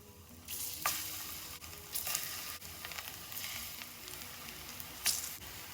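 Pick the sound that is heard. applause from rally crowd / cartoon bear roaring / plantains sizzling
plantains sizzling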